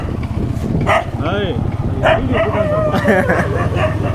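A dog in a village barks and yips in short bursts under loud, continuous talk from people nearby, set against steady background rumble.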